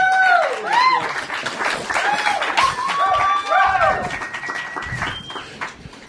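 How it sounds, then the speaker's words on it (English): A comedy club audience at the Comedy Cellar applauds and cheers a comedian, the clapping sustained under a host's voice calling it up, with whoops rising over the crowd noise. "Clap it up for Lenny Marcus, please"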